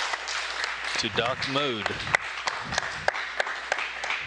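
Applause in mission control after Boeing's Starliner docks with the International Space Station, scattered sharp claps from a small group over radio-style talk, fairly faint and distant.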